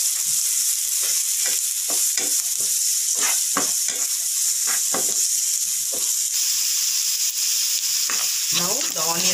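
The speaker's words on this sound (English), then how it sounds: "Now fry the onions till little golden brown." Onions fry in hot oil with a steady, close sizzle, broken by the scrape of stirring at irregular intervals, with no talking.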